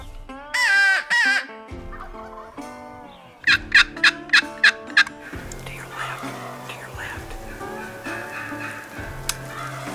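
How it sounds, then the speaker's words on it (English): A wild turkey gobbles in a quick burst of rapid, rattling notes, preceded by a few high calls and followed by faint rustling outdoors. "We've heard a few gobbles"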